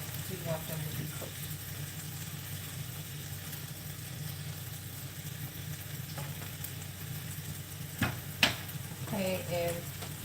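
Chicken sausages fry in a pan with a low, steady sizzle and a constant background hum, while a few clicks and scrapes mark them being flipped and a voice talks intermittently.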